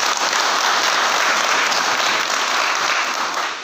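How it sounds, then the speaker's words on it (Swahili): An audience at a speech in Kigamboni bursts into steady, dense applause, loud and continuous throughout, tapering slightly at the end with no talking. "Tupigie makofi Mheshimiwa Mkuu."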